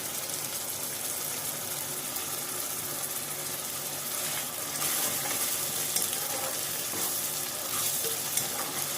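Tomatoes with dried red and green chilies and salt frying in a pan, a steady close sizzle with intermittent stirring scrapes, alone with no talk.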